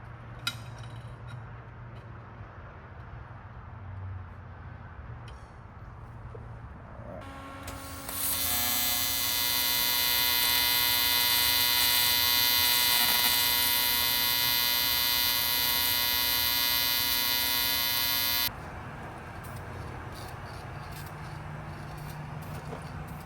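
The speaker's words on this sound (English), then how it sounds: "let me fire up the TIG" A TIG welder runs in a shop while fabricating on a 1998 240SX, a loud steady electrical buzz starting partway through, holding for about ten seconds, then cutting off to quieter background hum.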